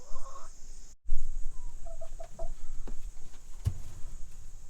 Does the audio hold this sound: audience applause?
no